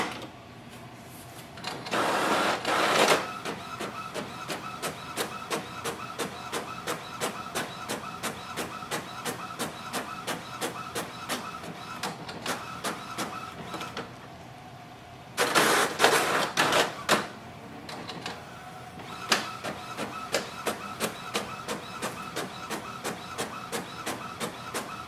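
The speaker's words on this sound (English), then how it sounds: "If I click on the print, you will see it can do the two-sided printing automatically." An Epson inkjet printer runs an automatic two-sided print job, with a steady rapid mechanical ticking and whirring throughout and two louder bursts of paper-feed rushing, close and continuous.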